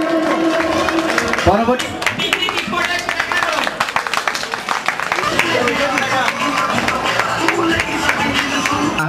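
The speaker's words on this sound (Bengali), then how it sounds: "তালি হবে, তালি হবে, সবার জন্য তালি হবে।" A crowd claps and applauds at an annual organisation picnic and get-together, dense continuous hand-clapping close by, with a voice speaking briefly over it.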